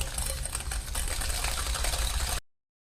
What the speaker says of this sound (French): je vais ajouter le sucre et mélanger ces deux ingrédients à l'aide d'un fouet pendant quelques minutes